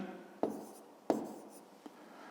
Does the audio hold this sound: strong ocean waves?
no